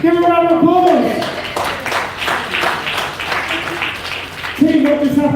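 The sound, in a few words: audience applause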